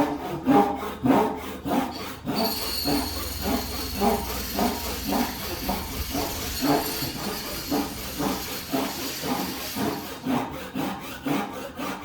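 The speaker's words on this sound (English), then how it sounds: "I'm going to make a cross cut and a rip cut right now in real time" A hand saw making a cross cut and a rip cut in wood at a joiner's bench, steady rhythmic back-and-forth rasping strokes, close and loud, continuing evenly for the whole stretch with no talking.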